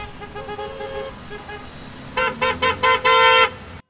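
Cars in a motorcade of over a hundred vehicles with flags driving through central Kropyvnytskyi, with traffic rumbling before a rapid series of five or six loud horn blasts close by.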